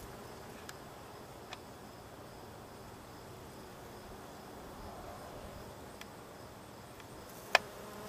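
Bumblebees forage among white cherry blossoms, giving a faint, steady outdoor buzz that runs the whole time, with a few soft clicks and one sharp tick near the end.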